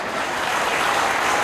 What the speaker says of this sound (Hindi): जोरदार ताली बजाइए आप सब।